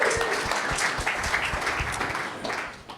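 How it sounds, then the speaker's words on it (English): A conference audience applauds steadily, a dense wash of many hands clapping at once, sustained and fairly close for the whole stretch. "Give a round of applause for Convene's National Conference."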